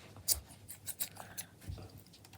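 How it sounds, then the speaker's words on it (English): Scissors snip the thread ends off a handmade friendship bracelet in a few quiet, sharp clicks spaced unevenly, with soft handling rustle in between and no talking. "then all I do I just cut the ends off"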